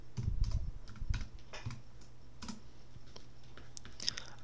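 Fingers tap on a computer keyboard while a web address is entered, a quiet run of irregular clicky keystrokes over a faint steady hum, close to the microphone.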